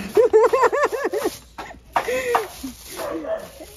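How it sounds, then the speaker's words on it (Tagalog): A dog barks in a quick run of sharp yelps at an LPG delivery, then a few more barks and whimpers follow after a short pause. "Maingay yung mga aso kasi may nag-deliver ng LPG"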